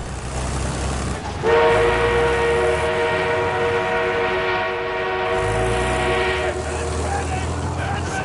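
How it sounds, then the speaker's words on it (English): A train passes in the video game Battlefield, sounding a long, loud horn blast over a rumbling rail roar. The horn holds for several seconds before the rolling noise carries on. "Train en route."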